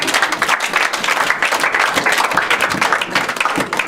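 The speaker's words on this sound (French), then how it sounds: "Est-ce qu'on peut acclamer le Seigneur?" A church congregation applauding to acclaim the Lord during a sermon, heard as steady, loud, sustained clapping from many hands.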